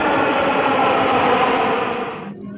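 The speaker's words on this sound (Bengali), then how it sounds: "এই যে আমাদের মেট্রো রেল ট্রেন যাওয়া শুরু হয়েছে।" A crowded metro rail train in Bangladesh getting under way, a loud, even rumbling roar that holds steady, then drops off sharply near the end, with no voices.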